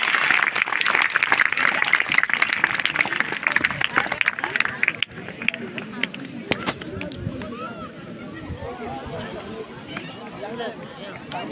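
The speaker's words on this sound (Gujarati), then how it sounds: "મિત્રો, તાળીઓના ગડગડાટથી એમને વધાવી લ્યો" A village crowd in Hamipara applauds the arrival of Yuvraj Jayvir Rajsinh Gohil of Bhavnagar at a Ram temple consecration. Loud, dense clapping fills the first half, then thins out and fades under scattered voices and crowd murmur.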